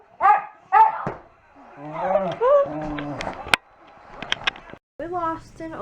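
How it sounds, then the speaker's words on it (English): A pet dog lets out several loud barks and yelps at close range, with a person's voice talking between and over the barks. "He's not happy when you bark. Stop, dog."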